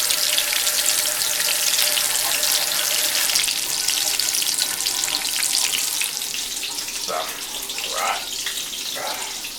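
Venison backstrap frying in a pan, a steady loud sizzle and crackle throughout with a few brief louder spits near the end.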